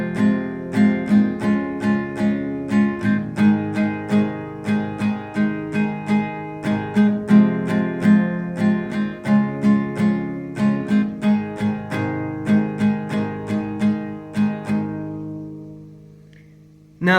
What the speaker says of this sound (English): So the verse part will sound like this.